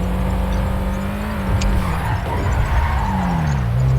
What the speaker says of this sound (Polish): Przejedźmy się na autostradę i przetestujmy jego maksymalną prędkość tego samochodu.